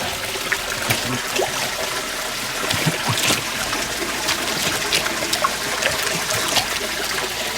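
Clear water trickles and splashes at the Comberan mountain spring on Nglanggeran as someone washes their face. Light, irregular splashing is heard up close over a steady babble, with no voices.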